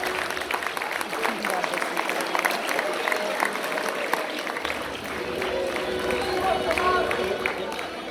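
Audience applause for the committee at the 35th Drama Comp grand finale awards ceremony, a steady, dense clapping that fills the hall for the full stretch, with crowd noise and voices mixed in beneath it.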